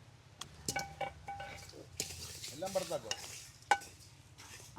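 Spices for Jaffna curry powder are stirred in a pan as they roast, with soft scraping, light sizzling and occasional metallic clinks, intermittent and fairly quiet, with no talking.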